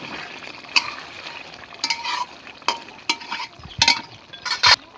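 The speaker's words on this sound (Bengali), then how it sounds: "এবার ঢাকাটা খুলে নাড়াচাড়া করে দেবো।" Chicken dak bungalow curry being stirred in a pan, with a spoon scraping and clinking against the metal in irregular bursts over a soft, steady sizzle, close and fairly loud.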